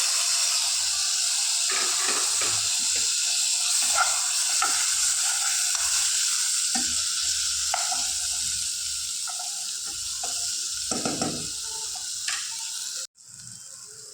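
Tomato sizzles in a hot pan for a Kerala-style rasam, a continuous close frying hiss broken by repeated stirring scrapes, dropping out abruptly near the end.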